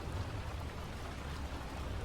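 Steady rain patters on a car, a dense, even hiss of drops that stays soft and continuous with no other sounds.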